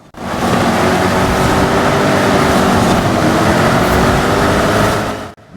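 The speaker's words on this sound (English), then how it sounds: "The one thing I like most about this championship is just the sound. Just listen to the engines here." Jaguar race cars in Forza Horizon 5 roar together at full throttle, a loud, steady, continuous engine drone with no pauses, heard alone.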